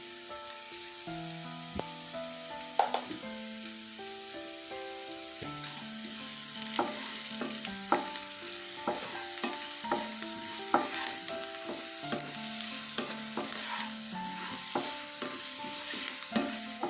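Chopped onions with turmeric fry in a pan for a village-style fish and tomato curry. A steady sizzle runs throughout, with repeated scrape-and-stir strokes, close and clear under a tonal background.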